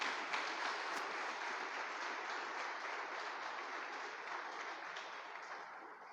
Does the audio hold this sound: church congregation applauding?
yes